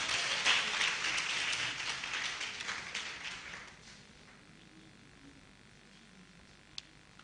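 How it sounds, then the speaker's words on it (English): A hall full of people gives a round of applause at a nursing college matriculation ceremony, clapping strongly for a few seconds and then tapering off into quiet room noise with a single faint click. "A resounding round of applause for yourselves."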